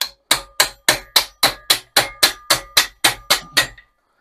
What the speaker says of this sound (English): Hit the flywheel.